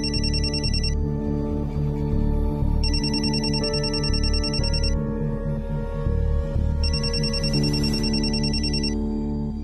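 A telephone rings in three long electronic trills separated by pauses, sounding over steady background music with no talking.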